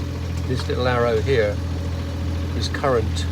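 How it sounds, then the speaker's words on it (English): A sailboat's engine running at low power hums steadily in the background, a low, even drone with a faint vibration, while someone talks over it. "you can probably hear the engine in the background whirring away"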